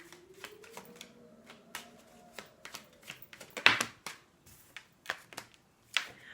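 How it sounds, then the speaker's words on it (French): Tarot cards drop and are laid out on a surface during a reading. Close, fairly quiet flicks, taps and slaps come in an irregular series, with a soft slide and a thin whine near the start. "on va faire tomber ces cartes"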